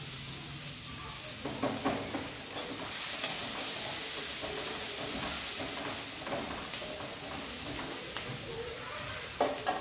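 Red chili powder and coriander are sautéed in oil with a continuous crackling sizzle and occasional stirring scrapes, and a faint voice is heard now and then.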